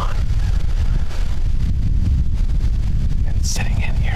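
Wind blows steadily and loudly across the microphone outdoors at a deer hunting stand in Ohio, a constant low rumbling buffet with a brief higher rustle near the end.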